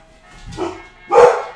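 A dog barks twice indoors, close and loud: a short, muffled woof followed by a sharper, louder bark.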